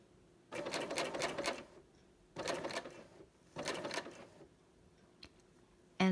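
A sewing machine stitches over the start of a rolled hem worked in the round, three rapid bursts of close mechanical clatter separated by short pauses, ending with a brief sharp click.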